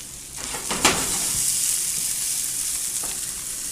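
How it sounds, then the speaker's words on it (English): Loud, steady sizzling and crackling of fresh white corn frying in butter in a hot pan, with a brief clatter near the start. "Now that's sizzle."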